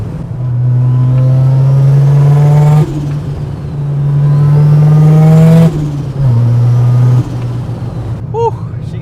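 Mazda RX7 rotary engine revving hard from inside the car, loud buzzing pulls rising in pitch, broken by sharp gear-change drops, with a brief chirp near the end.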